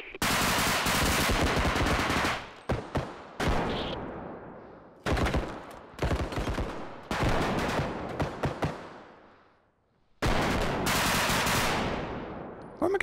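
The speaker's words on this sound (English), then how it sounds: "Where am I getting shot from?" Loud automatic gunfire from the video game Bodycam comes in repeated rapid bursts, with short gaps and one near-silent pause before the firing resumes.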